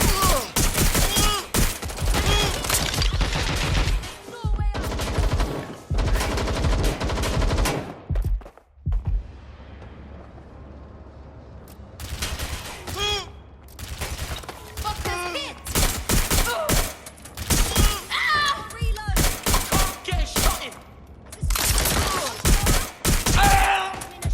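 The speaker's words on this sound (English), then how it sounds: "Someone's shooting!" Bursts of automatic gunfire from a firefight in Watch Dogs Legion, loud rapid volleys that pause and resume across the scene, with a few shouted voice lines between them.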